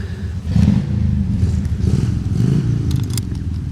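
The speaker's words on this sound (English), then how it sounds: "he needs to rev his engine so that we all hear that he's home" A low, rumbling engine revs up and holds a throaty growl, moderately loud and steady, with a faint metallic rattle near the end.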